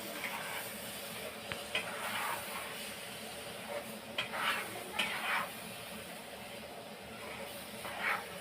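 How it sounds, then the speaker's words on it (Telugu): Egg garlic curry is stirred in a pan, with a soft steady sizzle and a few scrapes and clinks of a utensil against the pan, fairly quiet and close. "ఇప్పుడైతే మొత్తం కలిపేసుకుందాము."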